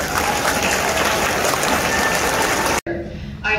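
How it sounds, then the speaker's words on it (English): Audience applause at a middle school awards ceremony, a loud, dense crowd clapping that runs steadily for nearly three seconds, then cuts off abruptly and is followed by faint room sound and a brief resumption. "we can give you a round of applause as well"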